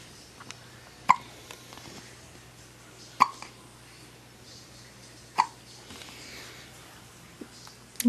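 A week-old newborn girl hiccups in sharp, isolated bursts, four clear hiccups roughly two seconds apart, close and fairly loud over quiet room tone.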